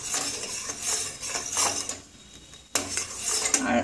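A metal utensil scrapes and clinks steadily against a pan while thick sugarcane-jaggery chutney is stirred, with a brief pause before the scraping resumes close and clear.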